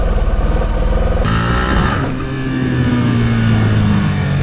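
A Yamaha R15 motorcycle accelerates for a small wheelie, its loud, close engine revving up sharply with a rising, buzzing note that holds strong to the end.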